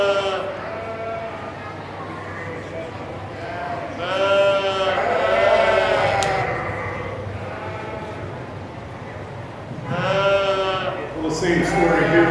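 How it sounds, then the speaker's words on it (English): Breeding ewes bleating at a county fair sheep show, several loud, wavering bleats in separate bursts over a steady background, with a voice speaking through the arena. "Champion breeding ewe."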